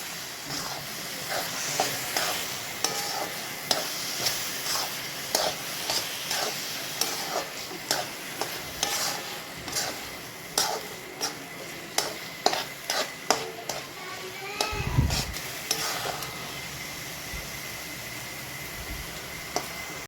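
Grated carrot halwa with milk powder stirred in a pan, a spatula scraping and tapping the metal in a steady, repeated rhythm over a soft constant sizzle, close up, with one low thump midway and no talk.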